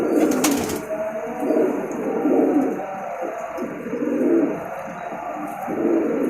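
Malwai Punjabi pigeons coo in low, throaty rolls that swell and fade repeatedly across the clip, with a steady high hiss in the background and no talking.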